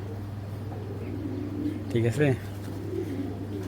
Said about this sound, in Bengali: অরিজিনাল নেদারল্যান্ডের কার্লুটস লাইনের একটা কবুতর